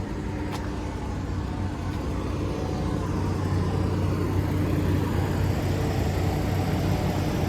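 A truck's engine drones steadily from inside the cab while riding along, a loud, continuous low rumble with road noise that builds slightly and stays constant throughout, with no talking.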